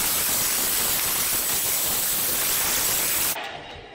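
A hair dryer blows air to dry hair, a loud, steady broadband whoosh close by that runs evenly for several seconds before abruptly cutting off near the end, leaving a faint fading hum.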